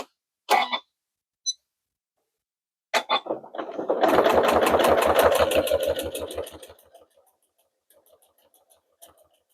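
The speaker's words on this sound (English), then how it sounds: "it is stitching in the ditch with blue on blue" A sewing machine stitches in the ditch on a blue pot holder, a few short clicks and bursts first, then a sustained rapid mechanical stitching run that tapers off into faint ticks.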